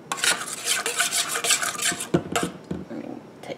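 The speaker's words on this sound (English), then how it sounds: "Stir it up." Spoon scraping and rasping against a pot while stirring homemade tomato pizza sauce, a steady run of close, busy rubbing strokes with a few sharper knocks near the end.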